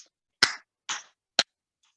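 Three sharp hand claps spaced about half a second apart during a qigong breathing exercise, close and clear in an otherwise quiet room, each with a brief tail.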